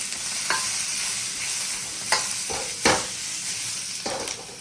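Onions and peppers sizzle and scorch in a hot pan for pepper steak, a steady close frying hiss broken by several sharp stirring scrapes.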